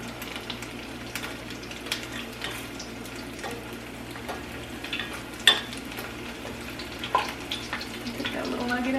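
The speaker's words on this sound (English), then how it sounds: "Let those finish frying" Steady low sizzling and crackling of tofu pieces frying crisp in a pan, with occasional sharper pops and clinks over a continuous hiss.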